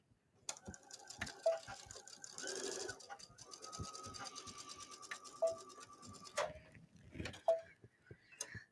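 Sewing machine stitching a bathing suit coverup, a steady mechanical whir punctuated by rapid needle clatter, pausing briefly and restarting several times, close and fairly clear with no talking.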